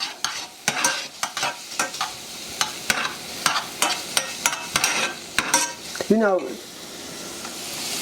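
Diced onion and minced garlic frying in a pan with a steady sizzle, broken by repeated sharp scrapes and clicks of stirring, and one short squeaky scrape near the end.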